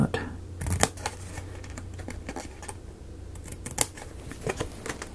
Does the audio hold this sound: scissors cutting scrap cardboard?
yes